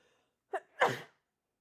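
A single person sneezes close up: a short intake breath, then a sharp, loud burst in a quiet room.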